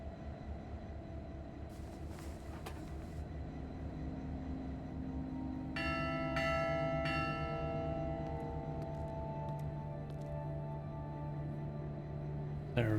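A bell rings out in the video game WILL: Follow The Light after its clapper is repaired, several bright resonant strikes sounding over a low steady drone and leaving long sustained ringing tones that fade slowly.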